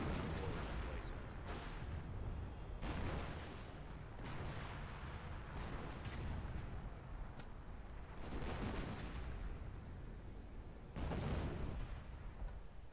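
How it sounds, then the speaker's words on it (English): Artillery fire from two American guns in the World War II strategy game Company of Heroes, repeated booming bursts and blasts pounding across a dense battle din, with heavy explosions recurring every few seconds under constant low rumble. "Americans using 2 artillery pieces"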